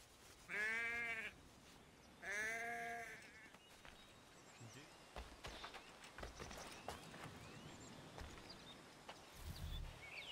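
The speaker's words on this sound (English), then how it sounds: "Can I kill the sheep? I cannot kill the sheep." Sheep in Assassin's Creed 3 bleat twice in the opening seconds, loud and close, followed by quieter footsteps and ambient game noise.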